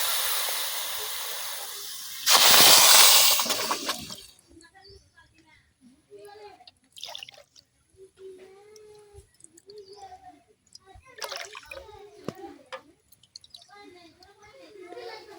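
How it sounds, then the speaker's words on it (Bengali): Four bowls of water are poured onto two bowls of sugar in a kadai to make syrup, a loud splashing gush of about two seconds, followed by someone talking over a quiet kitchen. "এখন এই বাটি দিয়ে 4 বাটি পানি দিয়ে দেন"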